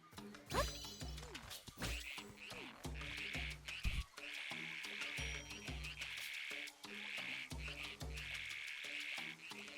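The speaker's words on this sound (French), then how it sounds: "J'ai pas encore très bien compris à quoi servaient ces crapauds. Mais au moins ils chantent, ils mettent l'ambiance." Toads croaking in a chorus in the video game Zelda: Echoes of Wisdom, repeated rhythmic croaks layered over a steady insect-like buzzing drone, with no talking.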